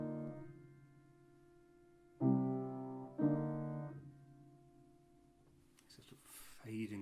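A sequence of sustained choral chords, each held and then fading away, with a quiet pause before a final chord enters near the end.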